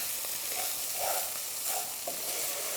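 Onion, garlic, ginger and herbs frying together in a pan, a soft steady sizzle with a few brief scraping stirs, close and fairly quiet with no talk.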